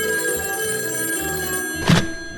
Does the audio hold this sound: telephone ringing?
yes